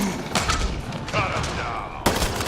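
Gunfire in the video game Mass Effect: Andromeda, rapid bursts of shots and impacts close and loud, with a voice speaking over the combat.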